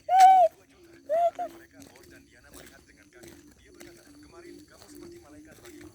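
A bird calls out loud twice in quick succession inside a house, followed by faint, scattered chirps and rustling as people speak quietly in the background.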